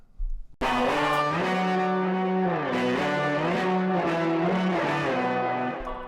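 A loud, gritty distorted electric guitar through Guitar Rig 5 amp simulation software rings out in sustained chords that shift slowly, thick and buzzing, playing alone after a brief click.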